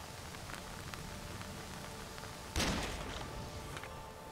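A single sharp gunshot cracks out in the Nioh video game, standing clear of a soft, steady background hiss before dying away.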